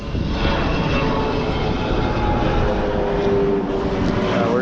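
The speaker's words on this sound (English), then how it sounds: "we're definitely in the flight path right here" An airplane flies low overhead along a flight path, its engine roar steady and loud throughout, with no voices over it.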